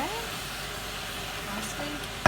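Ground beef browns in a pan with an even, close, steady sizzle and a brief voice at the start, ending in a short knock.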